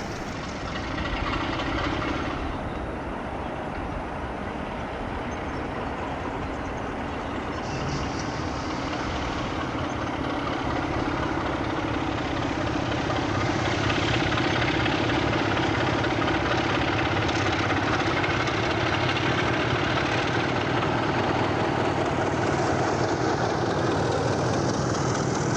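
A British Rail Class 33 diesel locomotive idles with a steady, loud low rumble and a dense mechanical throb that holds constant, swelling slightly later on, with no speech.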